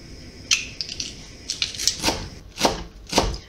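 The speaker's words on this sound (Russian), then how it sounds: "Укроп мелко-мелко нарезаем." A knife finely chops dill quickly on a cutting board in short, irregular bursts of crisp taps, close and fairly loud.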